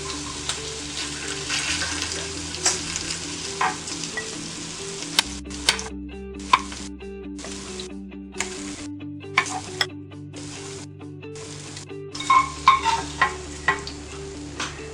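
Chicken pieces for a Malabar-style omanapola sizzle steadily in hot oil, a continuous frying hiss with scattered utensil clicks and taps, no talking.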